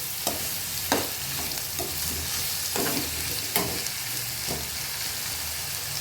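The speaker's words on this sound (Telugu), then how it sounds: "బీరకాయ మంచిగా రోస్ట్ అయ్యి మంచిగా మగ్గాలండి" Ridge gourd roasting in a pan, a continuous close sizzle broken by repeated spatula scrapes and knocks at an uneven rhythm, with no voices present.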